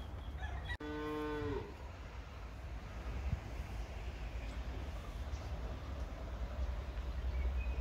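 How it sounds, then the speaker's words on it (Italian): A mother cow searching for her calf gives one clear, drawn-out moo near the start, then only a steady low outdoor rumble remains. "Insomma, c'è mamma mucca che cerca il suo vitellino."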